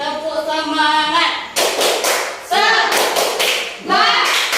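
A class of children does a rhythmic 'tepuk semangat' clapping cheer in an Indonesian classroom lesson, sharp bursts of group clapping alternating with chanted voices, loud and close.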